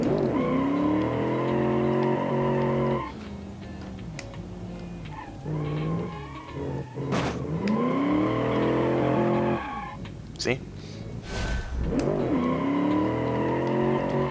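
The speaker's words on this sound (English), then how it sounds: "So yeah, a very fast car. If you can tame it. Lots of wheel spin." Fast car spinning its wheels in the racing sim Automation: loud engine revving rises and falls in long sweeps, with tire squeal and skidding between gear changes and a brief spoken word.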